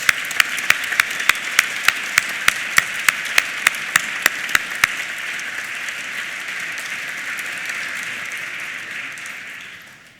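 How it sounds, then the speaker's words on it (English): Sustained round of applause from a university business school graduation audience for the class of 2019, a dense even wash of clapping with a few louder individual claps standing out early, tapering off toward the end. "let's give the class of 2019 a big collective round of applause"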